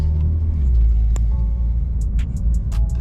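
A Porsche 992 Turbo S engine idles with a steady low rumble and a slight rise in revs, heard close and continuous, with a few sharp clicks on top.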